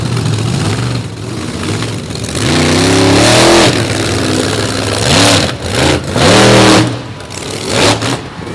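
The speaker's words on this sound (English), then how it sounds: "At the wheel of the American Scout, he's going to open up freestyle for the big trucks." A monster truck, the American Scout, revs its big engine hard during a freestyle run, loud and close, with repeated rising and falling surges of throttle and no speech over it.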